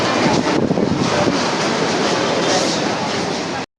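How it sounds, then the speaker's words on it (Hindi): Continuous broadband wind rushing across the microphone outdoors at a mall, loud and steady for a few seconds before cutting off. "बाहर तो हवा चल रही है"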